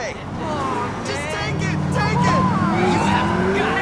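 Car driving and skidding in Grand Theft Auto IV, engine revving with tire screeches and a distant siren, while someone talks over the game sounds.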